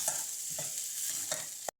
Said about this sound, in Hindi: शिमला मिर्च को प्याज के साथ 1 मिनट फ्राई कर लेंगे